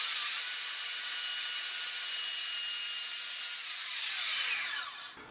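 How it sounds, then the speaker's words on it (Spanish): A wood router runs steadily as it cuts a circle, a bright, high-pitched whine and hiss that holds level close by, then drops away sharply at the end. "vamos a encender el router y darle la profundidad deseada"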